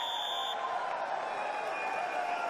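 A buzzer sounds at a professional wrestling league bout, Yogeshwar Dutt against Bajrang Punia, marking time expiry: a steady electronic tone for about half a second, followed by an arena crowd murmuring and cheering.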